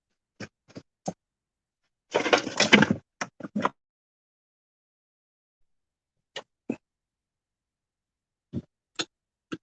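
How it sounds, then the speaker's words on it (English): A flat's front door is handled and locked late at night: a sharp cluster of rattling, clicking knocks near the start, followed by several isolated faint clicks and taps spaced across an otherwise silent room. "Just check my door's locked."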